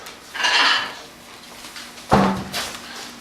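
A plate is pulled out and set down in a kitchen, a couple of short clattering knocks of dishware with faint rustling in between, close and fairly loud, no speech.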